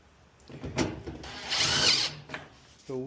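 A power drill drives screws into a Kenmore Elite dryer during a repair, giving short close whirring bursts between quieter handling noises.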